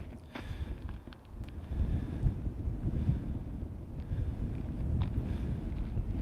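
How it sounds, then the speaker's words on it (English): Steady wind buffets the microphone, a low rumbling roar with gusts and a few faint clicks, no voices. "It's a little bit windy here,"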